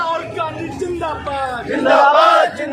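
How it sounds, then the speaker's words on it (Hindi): A dense crowd at a Congress party protest rally against inflation in Delhi chants and shouts together, rising to a loud collective roar, with nearby voices mixed into the din. "आप देख सकते हैं इतनी सारी भीड़ है कांग्रेस की"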